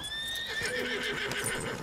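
A horse in Red Dead Redemption 2 whinnies loudly in a high, wavering call that drops in pitch, with faint hoof clatter underneath.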